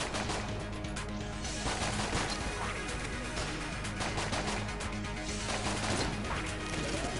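Starter pistol fire in the game Enter the Gungeon: rapid, repeated shots over a steady wash of music and crashing in-game effects, continuous and loud throughout.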